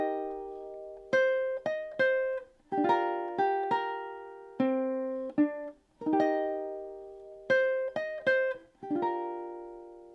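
Ukulele picking through measures 11 to 14 of a song, clear plucked notes and chords in a relaxed, lilting rhythm, close and alone.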